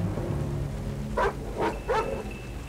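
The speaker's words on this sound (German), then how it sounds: "Das ist wirklich der wachsamste Hund aller Zeiten." A dog in the game Tomb Raider: Angel of Darkness barks three times in quick succession, loud and near, over a low ambient hum with no talk.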